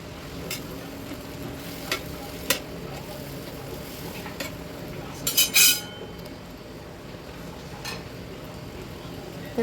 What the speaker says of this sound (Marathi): आम्ही इथे थोडं मीठ टाकून घेते आणि छान फिरून घेते